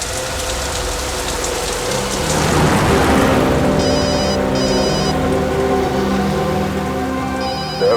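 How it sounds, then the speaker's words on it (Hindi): An incoming call on a telephone rings over a rain and thunder backdrop, with repeated ringing bursts in regular pairs cutting through the steady storm ambience in a crime drama scene. "दयाबेन का फोन।"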